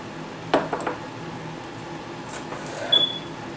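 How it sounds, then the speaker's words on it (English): A knife chops red link sausages on a kitchen cutting board, giving a few sharp taps: a quick pair early on and another strike near the end, over a quiet room hum. "I'm just chopping them up just like that."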